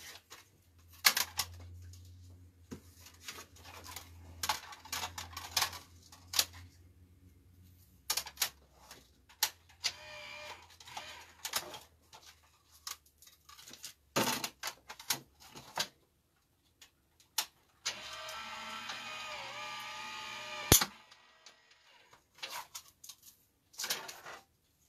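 An electric die-cutting machine cuts out a card with intermittent clicks, taps and whirring mechanical bursts separated by quiet gaps, including a longer grinding stretch near the end.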